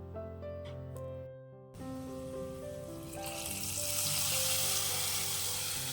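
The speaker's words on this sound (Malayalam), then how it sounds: "എണ്ണ ഒഴിച്ച് കടുക് പൊട്ടിയതിന് ശേഷം കുറച്ചേറെയായിട്ട് ചെറുള്ളി അരിഞ്ഞതും വെറ്റൽമുളകും കറിവേപ്പിലൂടെ ചേർത്ത് വഴറ്റിയെടുക്കുക" Shallots, dried red chillies and curry leaves hit hot oil after mustard seeds pop, tempering for a Kerala-style prawn and jackfruit-seed curry, with a steady sizzle that swells louder and hissier midway, alone without talk.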